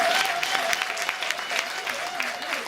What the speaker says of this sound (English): let's just give her a clap same time